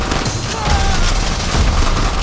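Call of Duty gunfire rattles in a dense, continuous barrage of overlapping shots and booms, loud and close throughout with no break.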